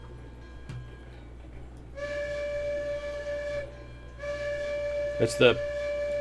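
A steam locomotive whistle in the train game Railroads Online sounds two long sustained blasts with a short gap between them, clear over faint engine rumble, with a brief word spoken at the start.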